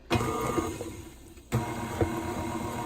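A stand mixer with a paddle attachment churns chocolate cake batter in a bowl, giving a steady mechanical whir with a brief dip near the middle before it resumes, close and continuous with no talking.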